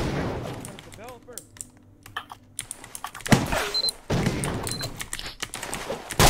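Rapid gunfire in the Roblox game KAT, clusters of quick clicky shots and thuds mixed with keyboard tapping, fairly close, while players chatter over the action.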